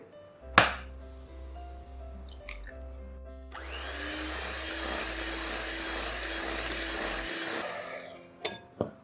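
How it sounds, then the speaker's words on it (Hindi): An electric hand mixer beats room-temperature butter and eggs for a bakery-style tea cake batter in a home kitchen, a steady whirring drone running for several seconds with a brief clatter near the start and a few knocks at the end. "इसी तरह सारे अंडे डालते जाएंगे और बीट करते जाएंगे।"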